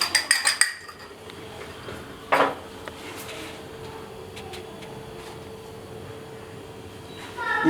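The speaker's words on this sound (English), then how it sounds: "Let's use our pan." A pan set down and handled in a home kitchen during prep for seared cod and prawns, giving a few sharp metallic clanks at the start and another knock midway, then a faint hum.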